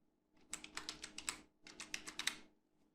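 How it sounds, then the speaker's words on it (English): A computer keyboard typed in two quick bursts of about eight keystrokes each, close and crisp with a short pause between bursts, the final keys entering a password. "once we enter the password, just press enter"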